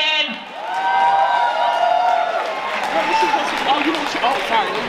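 Crowd at an awards ball applauds and cheers for the evening's host, a dense, loud wash of clapping with whoops and raised voices sustained throughout.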